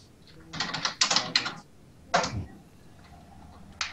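Computer keyboard typing during a Minecraft session comes as close, crisp clusters of rapid key clicks with short pauses between bursts.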